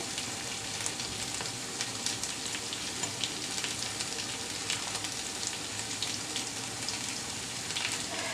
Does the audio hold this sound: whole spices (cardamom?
yes